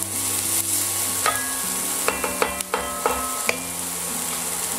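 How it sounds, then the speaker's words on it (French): Shallots lightly frying in a pan for a quick sauce, a steady close sizzle with a few sharp stirring clinks and scrapes over a constant low hum. "On fait griller légèrement les échalotes."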